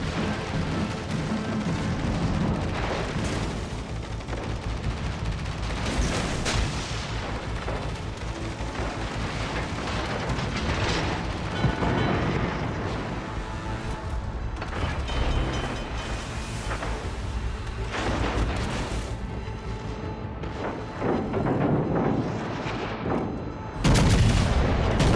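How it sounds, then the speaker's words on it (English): Anti-aircraft guns blaze from warships in a World of Warships Legends naval battle, Dover versus Hawke, a dense, continuous barrage of loud cracking and booming shots with heavy explosive rumble, swelling toward a louder burst at the end. "Anti-aircraft gun crews stand vigilant"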